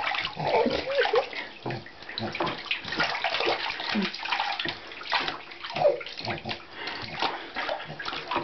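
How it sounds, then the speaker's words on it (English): A baby splashes in bathwater, sending irregular slaps and sloshes throughout while an adult's voice talks softly alongside. "splishing and splashing."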